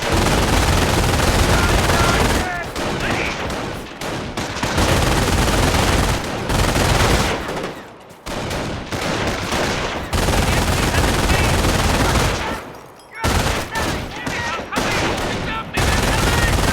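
Sustained gunfire and machine-gun bursts in the World War II strategy game Company of Heroes, loud and dense with brief lulls, under occasional game voice callouts.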